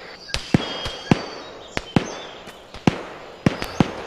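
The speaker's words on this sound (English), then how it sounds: "Shots from north, can't see anything." Gunfire in an Arma 3 military firefight, a series of about a dozen sharp, loud single reports spaced irregularly, each with a short trailing echo, over a faint background and no talk.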